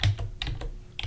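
Computer keyboard keys tapped in a short burst of about five or six distinct clicks, close and fairly loud, with a low hum running underneath and no voices.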